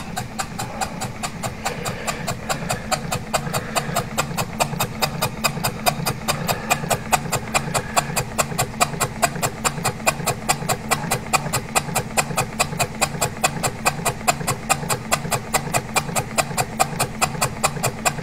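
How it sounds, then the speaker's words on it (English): A trapezium con-rod engine running on compressed air chuffs in a fast, even, steady rhythm of rapid exhaust puffs, close and continuous throughout. "there she is, chopping away nicely"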